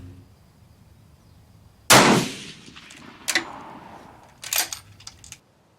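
Three rifle shots from a Steyr rifle firing handloaded test rounds at an outdoor range toward a 200-yard target: one loud sharp crack followed by two fainter reports, spaced about a second apart, with quiet between.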